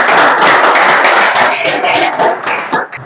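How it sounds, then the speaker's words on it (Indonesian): Classroom audience of students clapping in applause during a school teaching session, loud, dense and continuous for about three seconds before tapering slightly at the end. "Tepuk tangan Steve ya."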